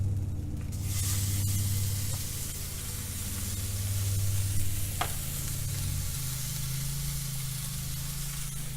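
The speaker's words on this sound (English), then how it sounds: "throw that right in the pan with the onions" Lean 90-10 ground beef sizzles loudly in a hot pan with onions, a steady broadband hiss with a few brief stir scrapes and pops, continuous and close throughout.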